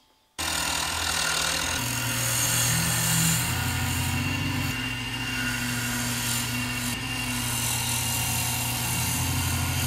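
A power tool truing up a very hard, tight-grained wood blank into a round shape, a loud continuous grinding whine with a low droning hum that starts abruptly and runs steadily close by, with no talk.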